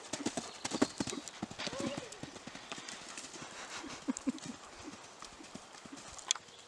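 A show-jumping horse trots on a training ground with quiet, rhythmic clip-clop hoofbeats, while voices talk nearby.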